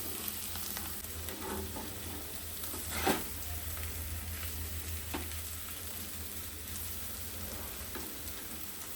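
Potatoes sauté in oil with chilies for a fasting dish, a quiet, steady frying hiss with an occasional soft stir or scrape, one slightly louder knock partway through, and no voices.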